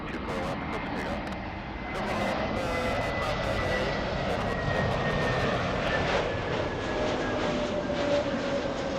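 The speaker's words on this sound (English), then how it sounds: "I think we have JetBlue on the runway" A JetBlue jet airliner takes off from runway 24 Left at LAX, its engines building into a steady, loud roar with a rising whine that holds throughout, while people talk faintly nearby.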